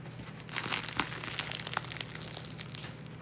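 Crisp crackling and crinkling as a crusty sourdough loaf is squeezed and handled up close, with scattered sharp crunches over a low steady hum.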